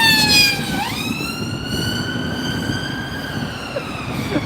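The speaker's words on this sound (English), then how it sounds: "there's another ambulance going" A loud ambulance siren wails with a falling then steady pitch, passing near over a low rumble of London traffic.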